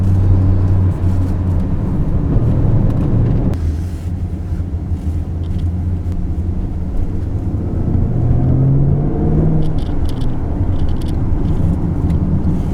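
The 550-hp V8 of a 2021 Jaguar F-PACE SVR drives a curvy, bumpy road, with a deep, steady engine rumble under continuous road and wind noise. The pitch dips and then climbs as the car shifts and accelerates.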